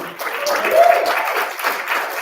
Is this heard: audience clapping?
yes